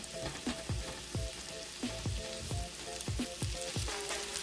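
Shrimp fry in garlic butter with a close, crackling sizzle, punctuated by repeated soft clinks and scrapes of stirring, and no one speaking.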